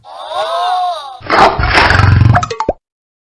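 A cartoon tiger roar sound effect from a children's animated show: a loud, rough growl lasting about a second and a half, then a sharp stop, after a short sung tone.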